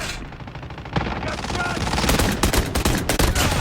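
Rapid bursts of .50 GS pistol fire in the mobile shooter Call of Duty Mobile, dense overlapping shots with game effects filling the mix, loud and close throughout.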